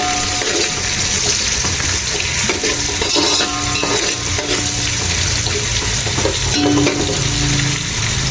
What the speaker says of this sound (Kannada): ಇವಾಗ ಸ್ವಲ್ಪ ದೊಡ್ಡವ್ರು ಇಟ್ಕೊಂಡ್ಬಿಟ್ಟು ಈ ಥರ ಚೆನ್ನಾಗಿ ಫ್ರೈ ಮಾಡ್ಕೊಬೇಕು